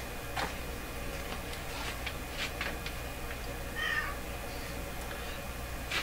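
A cat meows at a door, asking to be let outside, giving several faint short cries over a quiet room hum with a soft steady ticking in the background.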